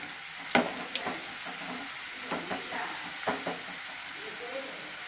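Ragi onion pakoda fry in hot oil with a soft, steady sizzle, broken by several sharp clicks and scrapes from a utensil turning the pieces in the pan.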